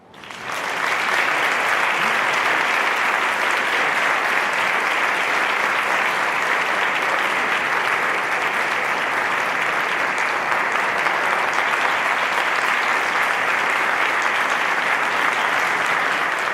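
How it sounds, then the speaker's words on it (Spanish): Sustained, loud audience applause at a conference welcoming a lecturer, a dense crowd of hands clapping evenly and continuously after a quick swell at the start. "les pido que la recibamos con un fuerte aplauso"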